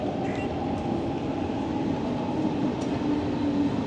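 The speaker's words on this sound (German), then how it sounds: "Da kommt schon unsere Bahn." A Berlin S-Bahn S2 train bound for Bernau rolls into the station with a continuous low rumble and faint wheel squeal, steady and moderately loud, no talk.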